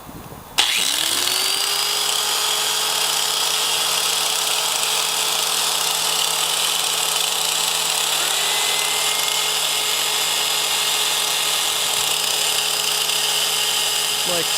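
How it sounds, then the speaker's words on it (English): A grinder runs steadily and loudly for the whole stretch, a constant high whine with a droning hum beneath it, starting abruptly after a brief moment and never letting up; no one speaks over it. "Here goes the grinder. I'm not going to say anything while the grinder's running because it's noisy."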